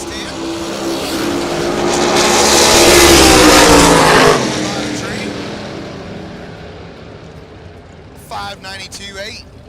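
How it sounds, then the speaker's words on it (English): S10 pickup trucks drag racing on a strip, engines swelling to a loud roaring pass and fading away, followed by an announcer's voice over the lingering rumble. "S10 over there on the TVM side and a red S10 over here on the Summit side"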